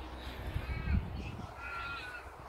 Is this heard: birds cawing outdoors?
yes